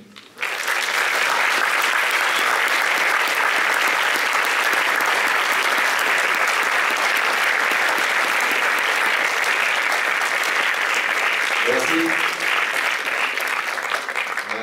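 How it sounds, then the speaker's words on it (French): A festival audience at a Paris screening claps long and loudly for a film's co-director and co-writer, dense sustained applause filling the room from start to finish with no talk. "je vais vous demander d'applaudir très très fort"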